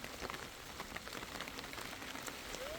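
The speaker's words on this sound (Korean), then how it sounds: "오늘은 비가 많이 옵니다." Heavy rain pours steadily onto a surface outdoors on a winter day, a dense continuous patter of drops at fairly low level with no voices.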